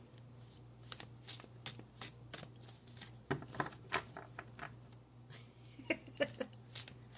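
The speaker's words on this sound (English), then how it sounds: "let me see if I can pull some cards" A deck of cards being shuffled and riffled in repeated soft papery bursts, close and fairly quiet, with a low steady hum underneath and no clear talking.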